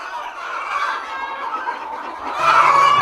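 Hens cluck in a busy, continuous chorus close by on a farm, with a louder bird call rising near the end.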